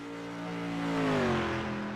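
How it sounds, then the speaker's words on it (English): The number 88 race car in a racing video game passes with a tonal engine whine that swells and then drops in pitch, a smooth single fly-by heard alone. "That's the engine of Wyatt Blair, the number 88."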